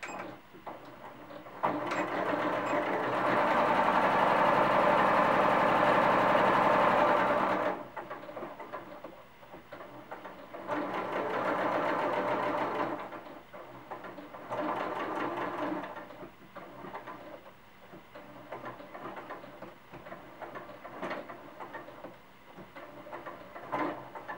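A sewing machine stitches the arm of a cloth doll, buzzing in a loud, close run of several seconds and then in shorter bursts, with pauses and quiet mechanical handling in between.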